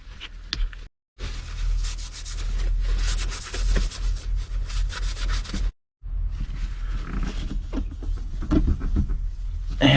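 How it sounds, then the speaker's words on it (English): A cloth rubbed with rubbing alcohol across the back of a 1973 GMC rear view mirror, giving close, continuous squeaky friction strokes with two brief pauses, no voices. "Go ahead and wipe the back side of this with some rubbing alcohol."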